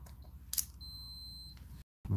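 A multimeter emits a single steady continuity beep of about a second while probing a Commodore Amiga A4000 motherboard, preceded by small clicks of the probes and followed by a brief handling knock.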